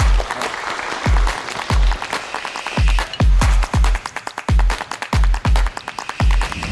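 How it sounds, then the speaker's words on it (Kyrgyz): Audience applause at a casting show, heard as heavy, thumping claps close to the microphone in an uneven, continuous burst with low booming hits. "Жылдызбекке кол чаап коелу."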